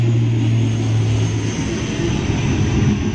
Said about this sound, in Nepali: यहाँ हेर्न सक्नुहुन्छ प्लेन कस्तो दामी तरिकाले जाँदैछ